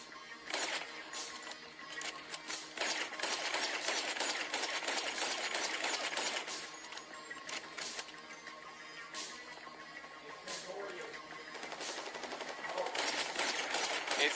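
Sustained gunfire rattles on in a GTA V zombie roleplay. Long bursts of rapid, crackling shots run nearly nonstop at a moderate distance with brief gaps, and a faint voice is under it at times.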